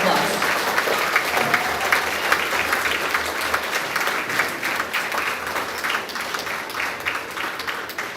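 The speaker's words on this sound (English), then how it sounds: "Now we can give them a round of applause." Audience at a grades 4-6 school awards assembly breaks into steady, sustained applause, a dense wash of clapping hands filling the room from start to finish.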